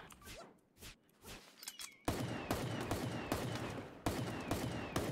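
Rapid AK assault rifle fire in a video game, bursts of sharp loud shots following some quieter thumps, continuous automatic fire with brief gaps.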